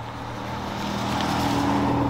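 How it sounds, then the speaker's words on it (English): Road traffic rolls past outdoors, a steady broad rumble of a passing vehicle that swells slightly and stays loud throughout with no one speaking. "Got some traffic coming through."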